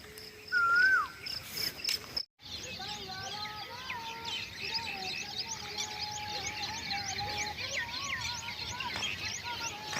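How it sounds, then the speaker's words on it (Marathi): Outdoor ambience of insects buzzing steadily, with an Asian koel's repeated song phrases rising and falling over it, including one clear whistled call near the start, near a soybean field. "इकडं कोकिळाचा आवाज"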